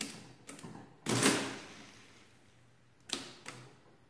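A Friden Model S10 mechanical calculator under repair works through an addition. Quiet, sharp mechanical clacks are followed by a longer whirring burst, then a few more clicks, all close and fairly faint.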